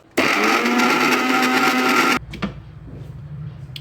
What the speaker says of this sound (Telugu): ఇప్పుడు పాలు కూడా వేసేసుకొని మిక్సీ వేసుకుందాం.